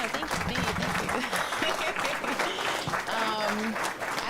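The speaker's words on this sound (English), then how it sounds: "Can I get an applause for that?" Brief applause with cheering from a small crowd, steady clapping under a voice talking over it, at moderate loudness throughout.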